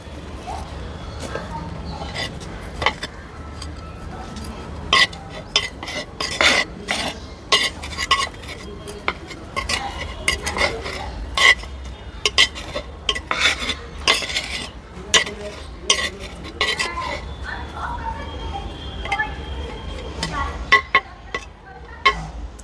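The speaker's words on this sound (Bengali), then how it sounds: "হালকা ওপরে টপ সয়েলটা একটু খুঁড়ে নিচ্ছি।" A small metal tool scrapes and digs loose top soil around a potted bougainvillea, making close, irregular scratching and clinking strokes in quick bursts, with faint talk in the background at times.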